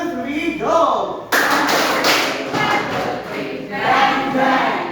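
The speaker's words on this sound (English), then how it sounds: "let's give everyone a bang bang clap" A classroom of students performs a bang bang clap cheer together, with loud rhythmic claps and thumps over a bed of crowd noise and voices, bursting in suddenly and continuing in uneven bursts.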